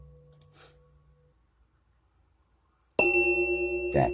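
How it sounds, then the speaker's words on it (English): A bell sound effect from a paranormal sound pack: a bright ringing bell strike starts abruptly near the end and sustains with clear tones and slight pulsing, after a few faint metallic taps and near silence. "we're going to do a couple more bells"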